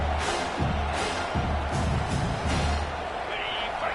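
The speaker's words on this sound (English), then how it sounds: "Decibels rising as the crowd gets behind this defense on third down." Stadium crowd noise swells steadily in a college football video game during a third-down defensive stand, a dense continuous roar under a commentator's voice.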